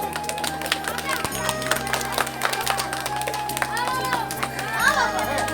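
An audience at a primary school annual function claps in a steady rhythm over music, with children's voices and crowd chatter mixed in.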